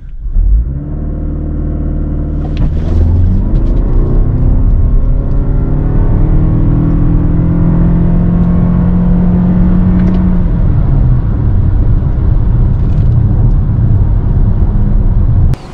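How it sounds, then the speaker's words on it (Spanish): A 2022 Lexus NX 350h F-Sport hybrid launches hard from a standstill at full throttle. A loud rising engine and electric whir climbs steadily in pitch, then settles into a sustained drone. "vamos a pisar freno y acelerador a fondo y a ver qué pasa"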